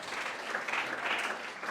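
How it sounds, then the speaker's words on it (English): Applause from an audience at a startup pitch competition as a winner is announced, a brief burst of steady clapping from many hands, moderately loud and even throughout. "So big applause for Paula."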